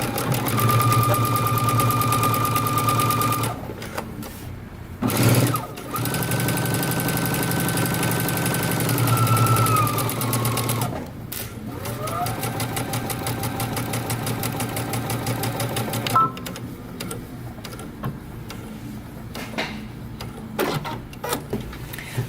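A home sewing machine runs in sustained bursts, top stitching a seam on denim jeans, with brief pauses between runs and a steady mechanical whir up close.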